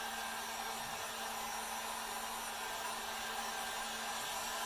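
Low-speed heat gun, a heavy tool used for shaping longleaf pine and epoxy forms with silicone molds, blowing hot air in a steady, loud, unbroken whoosh with a constant hum throughout and no talking.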